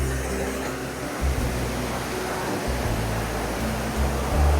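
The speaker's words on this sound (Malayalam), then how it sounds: "ഇവിടെ നമ്മൾ വെള്ളച്ചാട്ടം നമുക്ക് ആസ്വദിക്കാം." Kattikkayam waterfall near Kottayam pouring in a steady, loud, broadband roar of falling water that fills the whole stretch without pause, with low rumbling surges underneath and no voices over it.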